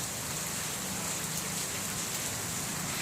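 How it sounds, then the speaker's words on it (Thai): Steady heavy rain pouring down in Mahachai, Thailand, a dense, even hiss that stays loud the whole time with no voices. "ฝนตก"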